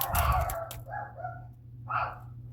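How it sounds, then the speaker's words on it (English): Dogs bark indoors in the background, a couple of short yips followed by separate muffled barks at a moderate distance, with no voices alongside. "I apologize for the dogs barking"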